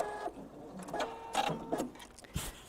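A sewing machine makes a short back stitch, a few quick bursts of mechanical whirring and clicking up close, stopping and starting.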